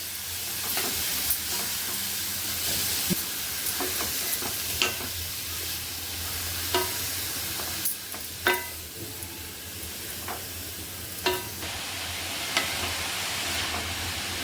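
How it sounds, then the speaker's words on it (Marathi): Grated carrots sauté in ghee over a medium gas flame for carrot halwa, a continuous close sizzle broken by regular spoon scrapes and stirring knocks. "आता आपल्याला चार पाच मिनटं चांगलं गाजर परतून घ्यायचं आहे तुपावरती मिडियम गॅसवरती परतायचं आहे"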